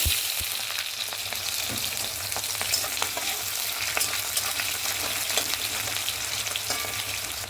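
Onions fry in hot oil with whole spices and dried chillies, giving a continuous bright sizzle with scattered pops and light stirring clicks, close and fairly even throughout.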